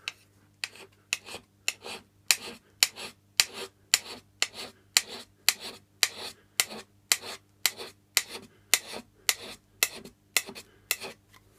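A hand scraper works the flats of a Myford 7x7 lathe cross slide, producing a steady series of about twenty short, crisp rasping strokes at an even rhythm, close-up over a faint low hum.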